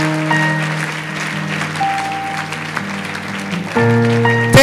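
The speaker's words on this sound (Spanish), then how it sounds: "Dale un fuerte aplauso al Señor." A congregation at a church conference claps loudly in sustained applause. Organ or keyboard chords ring underneath, swelling louder near the end.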